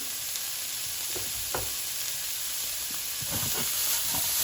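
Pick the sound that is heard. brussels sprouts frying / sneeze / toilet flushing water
brussels sprouts frying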